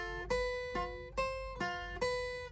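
A beginner's guitar lead exercise alternates single picked notes between the first and second strings, five even notes in quick succession, each ringing briefly. It sounds quiet and close, with no talking.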